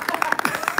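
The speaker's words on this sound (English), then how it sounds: "Give yourselves a round of applause." Audience applause at a fan convention: a short burst of clapping from a crowd, rhythmic and fairly close, lasting under a second.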